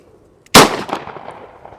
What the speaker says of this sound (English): So we're going to shoot 7 rounds of 9mm.